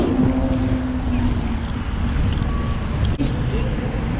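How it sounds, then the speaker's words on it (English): Strong wind roars steadily across a microphone in Miami among tall buildings, a constant loud buffeting rush that barely lets up, with a brief dip near the end. "the wind blowing like a mother. Wind blowing like crazy"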